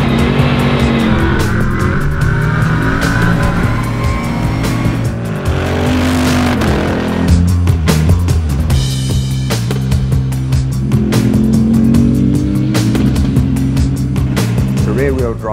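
A Bentley Continental GT3 V8 race car with rear-wheel drive, a six-speed transaxle and sequential shifting accelerates hard at the Goodwood Festival of Speed 2013, its loud engine roaring continuously with shifting pitch and tire noise while someone talks over it.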